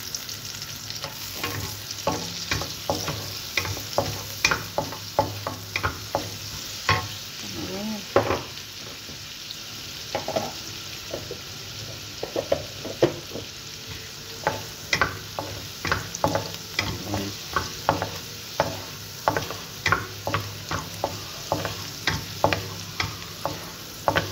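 Butter and garlic fry in a pan for fried rice, giving a steady close sizzle broken by frequent clicking stirs and scrapes of a utensil against the pan, with no talking.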